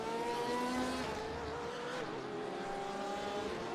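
Race car power sliding through a corner at Suzuka during a sportscar championship race, engine note wavering as the tires slide, loud and continuous with no talking.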